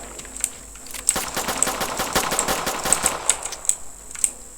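Small pistols fired in the Teardown video game, one per mouse button, crack in a quick irregular string of sharp reports over a steady faint background, with no voices.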